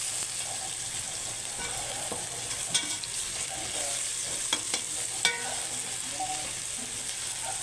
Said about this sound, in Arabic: اول ما الثومه تتشوح بس حاجه بسيطه.